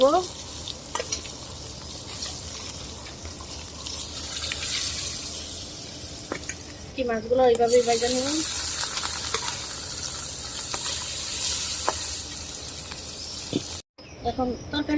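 Onions frying in hot oil for a rohu fish curry: a steady sizzle and hiss under occasional stirring, with a voice briefly heard in the middle and a short break in the sound near the end.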